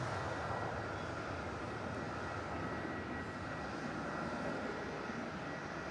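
An Airbus A320 jet at Melbourne Airport gives a steady, broad engine roar, a constant dense rumble and hiss with no pauses and no voices.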